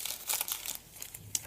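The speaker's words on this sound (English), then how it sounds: "you have to actually get your scissors and just cut this side open" Scissors cut open the closed side of a paper folder, a short close crinkling, snipping rustle of a few quick bursts.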